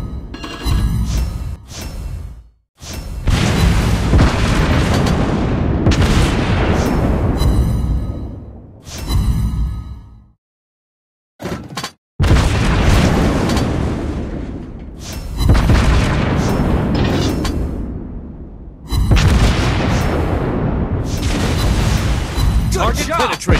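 Heavy battleship gunfire in the naval game World of Warships Blitz, from the Tier 7 Japanese battleship Ashitaka: loud booming salvos roll out in several bursts with short silent gaps between them.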